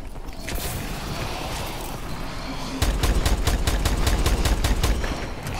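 A weapon in Call of Duty: Advanced Warfare is reloaded amid a firefight, with mechanical clicks under steady background noise. Partway through, a rapid burst of evenly spaced gunshots breaks in loud and close.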